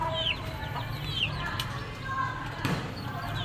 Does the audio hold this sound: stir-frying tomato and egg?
no